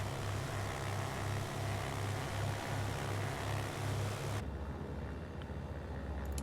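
The piston engine of a BN2A Trislander in a flight simulator runs after start with a loud, steady droning rumble. Partway through, the hissing upper layer drops away and leaves a lower, throbbing hum.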